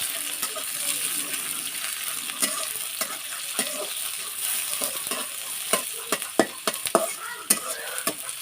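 Chopped onions sizzle in oil in a pan for spiced red lentil bhuna, with busy stirring and sharp spatula clicks and taps that grow louder toward the end.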